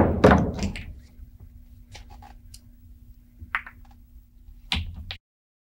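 Pool balls clicking during a high right masse shot in Virtual Pool on PlayStation, the cue ball spinning around a rack: a few sharp, dry knocks spaced out over several seconds, with quiet gaps between.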